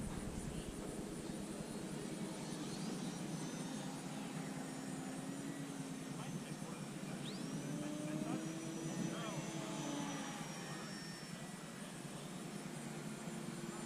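A radio-controlled PA-18 Super Cub model airplane flies overhead at a flying field, its thin motor whine rising and falling as it passes at a distance, with voices faintly in the background.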